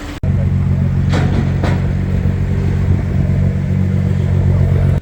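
A Nissan GTR R35 rolling in with a loud, steady engine drone close by, the tone holding low and even throughout with brief voice fragments over it.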